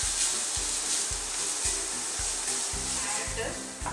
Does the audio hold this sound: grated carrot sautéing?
yes